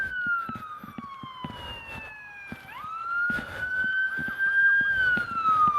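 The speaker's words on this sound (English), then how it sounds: "the ambulance is trying to get by." An ambulance siren wails steadily through heavy traffic, its sweeping tone sliding down and back up as it nears, growing louder and closer by the end.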